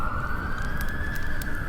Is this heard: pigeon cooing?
no